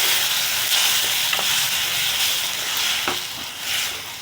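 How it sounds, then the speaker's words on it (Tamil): Ground masala with chilli, coriander and turmeric powders being stirred into sautéing brinjal for Karaikudi-style kuzhambu, a steady close sizzle with a few sharp scrapes of the spoon against the pan. "அரைச்ச மசாலா கலந்து கொடுக்கலாம்"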